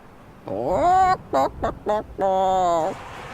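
Cartoonish chicken clucking from the video game Simon the Sorcerer 4: a drawn-out squawk, three quick clucks, then another long squawk, loud and close with nothing else beneath.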